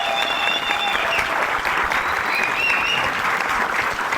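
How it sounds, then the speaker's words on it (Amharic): An audience at a comedy show applauds, with dense, sustained clapping from a crowd that holds steady for the whole stretch, with some faint voices mixed in. "እዚህ አካባቢ ግን ጭብጨባው ለኛ ሳስቷል።"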